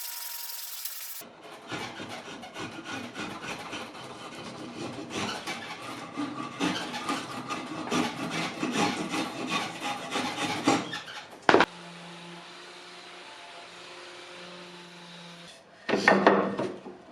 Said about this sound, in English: I'm just going to sand down one side until it fits nicely.